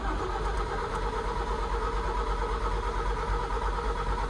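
Scania truck diesel engine cranking over steadily without firing, a continuous rhythmic starter churn held close and loud for several seconds.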